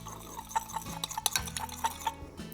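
Baking soda being stirred into a small amount of water: a run of light, repeated clinks and scrapes against the container, close and fairly quiet, with no talking.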